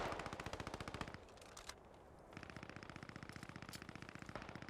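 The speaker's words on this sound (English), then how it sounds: "They've got a little bit of rifle fire returning here, a little bit of Bren fire." Rifle shots and rapid Bren light machine gun bursts ring out in a Post Scriptum battle, a steady rattling rhythm of automatic fire with brief pauses, heard alone without talk.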